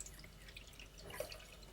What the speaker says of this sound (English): So just rinsing it with your hands, tipping the water out,